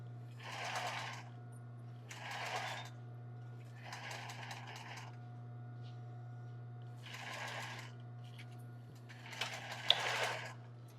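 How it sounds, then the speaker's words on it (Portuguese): A sewing machine stitches embroidered tulle for a bra in short bursts, five runs of rapid whirring separated by pauses over a steady low motor hum, close and moderately loud. "E vou costurando até o final."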